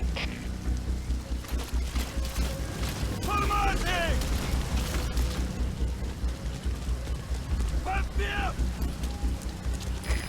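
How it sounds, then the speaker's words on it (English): Steady rain hiss in Metal Gear Solid 5: The Phantom Pain, a dense, continuous wash of rainfall with low rumble beneath. Brief game voices and mechanical sounds surface intermittently over it. "Sound of rainfall should help to mask your footsteps."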